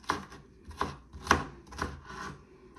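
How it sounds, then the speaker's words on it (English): Knife chops through ingredients for a breakfast casserole on a cutting board, five steady close strikes about half a second apart, clear and alone with no talk. "As soon as I finish chopping it all up."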